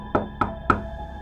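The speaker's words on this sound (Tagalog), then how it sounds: "biglang may kumatok sa pinto" Three sharp, evenly spaced knocks strike a door in a Filipino horror story, close and distinct against a quiet background.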